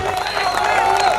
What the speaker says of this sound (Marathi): बॉडी बिल्डरसाठी टाळ्या होत्या.